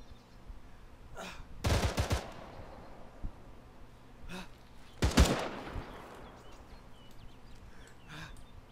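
Two loud bursts of gunfire, a rapid volley near the two-second mark and another just after five seconds, ring out with fainter isolated shots between, heard at a firefight near a truck during a tactical game.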